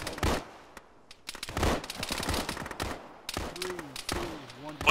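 Gunfire at enemies in a town in Arma: rapid rifle and machine-gun shots crack in quick bursts, near and loud, with voices and a warbling radio-like tone toward the end.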